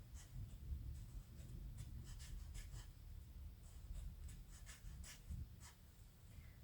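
A pen moving across paper while a tarot cheat sheet is written out, with a steady run of faint, soft scratchy strokes over low background rumble.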